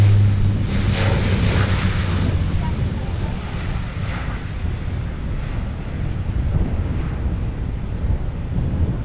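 Airliner noise at Montreal Trudeau Airport (YUL) in bad, gusty weather: a steady, loud engine roar blended with wind buffeting the microphone, continuous throughout with no pauses.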